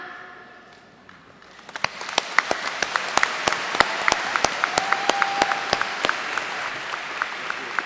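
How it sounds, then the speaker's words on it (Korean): Crowd applause at a sports festival opening ceremony in Seoul after the athletes' oath, rising from a quiet start into sustained clapping with distinct loud individual claps standing out near the microphone. "다시 한번 뜨거운 박수로 선수 대표를 대표한 선수들의 선서를 축하해 주시기 바랍니다."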